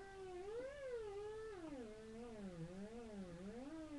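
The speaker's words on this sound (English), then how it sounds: "we're more interested in that whirly sound" A Sequential Circuits Pro-One synthesizer sounds a whirly tone with its LFO sweeping the pitch up and down in wavering, vocal-like glides. It plays alone and fairly quiet, with no talk.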